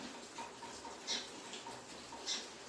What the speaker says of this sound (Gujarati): પવન સાથે વરસાદ એટલો છે ને પવન એટલો છે.